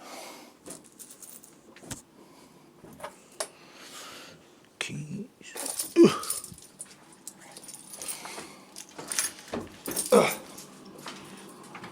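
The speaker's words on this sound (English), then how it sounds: "Keys." Keys jangle indoors during a dog training session at dinnertime, with scattered metallic clinks and rattles. They come in irregular bursts close by, amid soft handling noises and occasional louder knocks.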